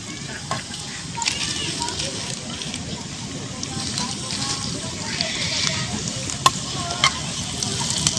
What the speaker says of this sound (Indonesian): kita tumis sampai matang